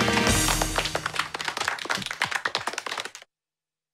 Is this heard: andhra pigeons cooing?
no